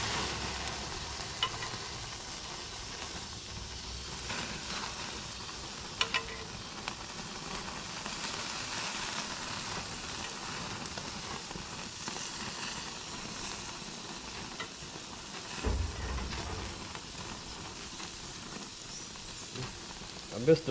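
Steak sears in butter and olive oil, flaring up in the pan, with a steady close sizzle and crackle running for about twenty seconds and a few louder bursts along the way.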